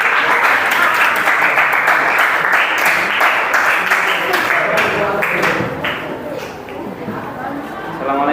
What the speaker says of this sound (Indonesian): Tepuk tangan untuk kelompok Ragil